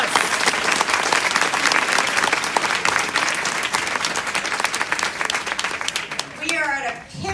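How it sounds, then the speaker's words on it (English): A conference audience at a school library services event applauds in a long, dense burst of clapping that fades near the end as voices come in. "So first, we can applaud"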